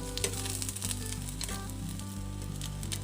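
Eggplant frying in a pan for a Filipino eggplant and mushroom lunch dish gives a steady, close, continuous sizzle with crackling spits throughout and no talking.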